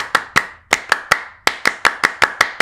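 A Pramuka scout group clap done by hand, about a dozen sharp, loud claps in a quick rhythmic pattern with a short pause partway through, with no talking.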